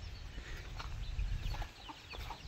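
A rooster clucks a few times, faint and somewhat distant, over a steady low rumble of outdoor background noise.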